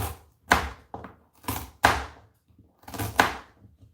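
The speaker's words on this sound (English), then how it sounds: "Getting these carrots cut real quick." Carrots being sliced into rounds with a knife on a cutting board, several distinct sharp chops in an uneven rhythm, close and clear with quiet gaps between strikes and no talking.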